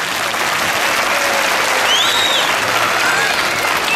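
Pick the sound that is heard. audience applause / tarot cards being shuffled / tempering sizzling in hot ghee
audience applause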